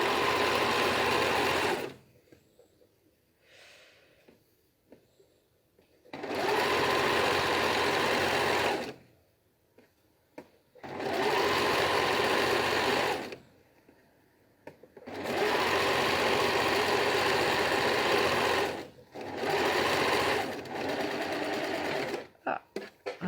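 A sewing machine stitches the seams of a fabric loose-leaf tea bag in a home sewing workshop, running in four long steady bursts separated by short quiet pauses, close and loud, with a few faint handling sounds between runs.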